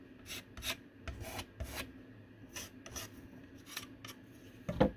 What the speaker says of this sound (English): you just scrape where you want it